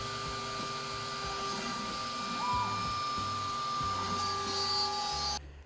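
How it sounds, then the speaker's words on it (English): A CNC carving machine drilling a small hole in wood whirs and drones steadily with a high-pitched tone, motor noise holding constant before cutting off abruptly near the end. "Oh, it's drilling out a little hole now."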